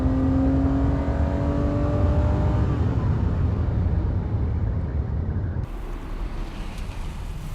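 A BMW M1 sports car drives by with its engine droning and rising in pitch before easing off, heard from nearby over steady wind rush, the engine note fading toward the end.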